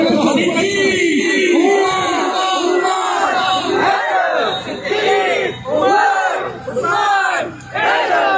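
A large religious gathering chants the Nara-e-Tahqeeq slogan in loud repeated call-and-response shouts, voices swelling in rhythmic waves over several seconds, with a leader's voice mixed in.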